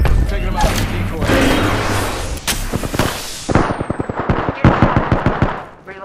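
Rapid bursts of automatic gunfire in the battle royale shooter Apex Legends, a dense, loud barrage that breaks into distinct sharp shots, with a voice speaking over the shooting.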